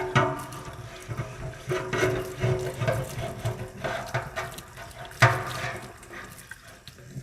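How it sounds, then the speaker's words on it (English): Water from a sink tap runs down the groove of an Aston Martin DB9 grill while it is scrubbed during paint stripping, a close, uneven splashing and trickling with scrubbing bursts and no talk. "I'm going to basically get the sink running water down the groove."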